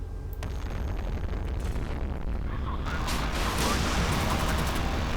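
Missile blasts and rumbling detonations in the naval combat game Modern Warships, a dense continuous roar of explosions with bursts layered over a loud, steady battle din.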